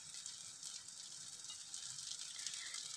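Two eggs frying with tomato in a pan for egg Maggi noodles give off a faint, steady sizzle, soft and continuous with no voices.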